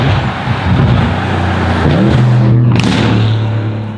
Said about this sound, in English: this is a loud car